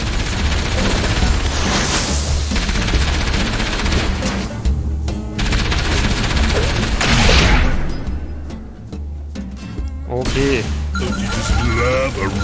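A mounted turret in the video game Enslaved fires sustained bursts of heavy gunfire over booming impacts and a thick game soundtrack, loud and nearly continuous, with a brief lull before the shooting resumes.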